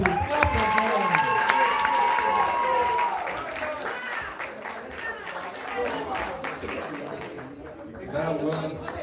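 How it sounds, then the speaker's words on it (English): An audience at a film festival claps and cheers in a crowd, sustained applause running for several seconds under a host's voice talking over it, fading slightly toward the end. "Can you clap for these people?"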